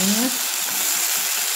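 Beef steak frying in a pan with no oil gives a steady, close, crackling sizzle, with a brief voice at the very start.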